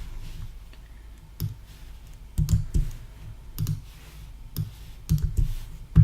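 Computer mouse clicks while copying and saving name servers during hosting signup: a few sparse, close, quiet clicks spaced irregularly over faint room hiss, no talk.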